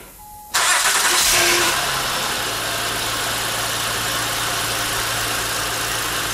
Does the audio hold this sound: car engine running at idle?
yes